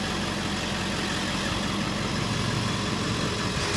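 A Ford F-250 flatbed truck engine idles with a constant low rumble that stays loud and even across the whole stretch, with no voices.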